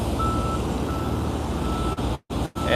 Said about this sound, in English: There's another truck here on the right just pulling up